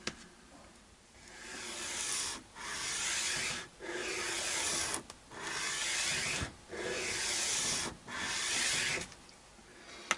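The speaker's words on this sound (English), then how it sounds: "Burning my fingers on the sandpaper." Sandpaper rubbing a bone guitar nut blank during a Westone Concord 1 refret and setup, heard as five or six close, steady back-and-forth scraping strokes separated by brief pauses, with no talking.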